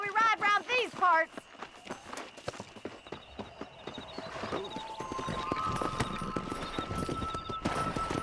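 Horse hooves gallop in a rapid, rhythmic clip-clop during PC gameplay of Red Dead Redemption, steady and fairly close, with a voice talking briefly at the start.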